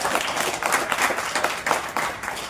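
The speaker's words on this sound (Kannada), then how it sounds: "ಚಪ್ಪಾಳೆ ಚಪ್ಪಾಳೆ" A crowd gives a short, steady round of applause at a Dalit Sena office-bearer selection meeting in Hosakote taluk, with dense clapping at moderate distance throughout.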